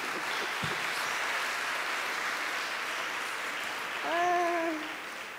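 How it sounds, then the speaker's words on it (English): An audience at a class reunion honoring ceremony gives a steady round of applause, fairly distant and even throughout, with a brief tonal squeal rising over it near the end. "Can I have an encouraging applause,"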